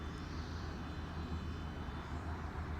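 Boeing 737 MAX with CFM LEAP-1B engines taking off at an international airshow, a steady broad jet roar with strong low rumble held evenly throughout, moderately distant.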